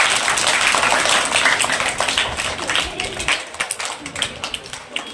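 An audience at a clothing-distribution event in Udaipur, Rajasthan claps to welcome a guest, a lively, fairly close burst of applause that thins into scattered, uneven claps toward the end.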